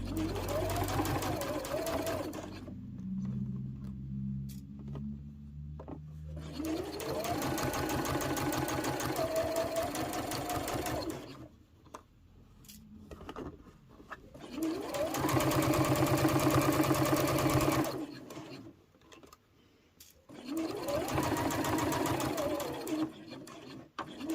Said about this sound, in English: To sew quite close to the edge.